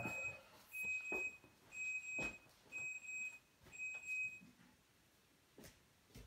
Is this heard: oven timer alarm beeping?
yes